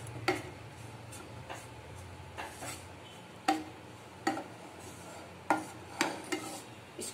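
Desiccated coconut lightly roasted in a pan, with a utensil stirring and scraping at irregular intervals, producing sharp clicks and taps over a faint low hum.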